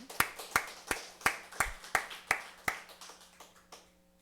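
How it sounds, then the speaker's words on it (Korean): A church congregation claps in a slow, steady series of about eleven sharp claps, evenly spaced and fading toward the end, with a low hum behind. "영광의 박수 한번 올리겠습니다"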